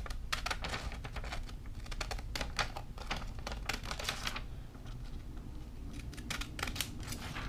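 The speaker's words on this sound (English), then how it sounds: "get some paper and some scissors, and you're just gonna cut a little piece like something like this" Scissors snip a small piece of paper up close, a quick series of crisp cuts coming in short clusters, with nobody talking.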